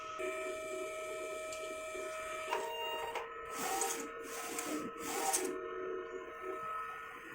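An inkjet printer runs a test page after head cleaning, with soft mechanical whirring, clicks and repeated short swishing passes of the print carriage, fairly quiet and close.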